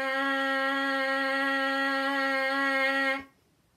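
A steady, sustained buzz of lips vibrating in a trumpet mouthpiece, one unbroken pitched tone held for about three seconds before stopping abruptly, close and fairly loud with no talking.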